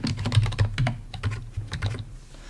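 Typing commands into a terminal on a computer keyboard, a close, quick run of clicky keystrokes in uneven bursts with no talking.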